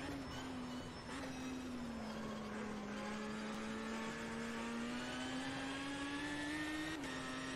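Race car engine in the Automobilista 2 racing simulator played in VR, a continuous loud whine with steady revs that dip slightly and climb again under acceleration, with no talk.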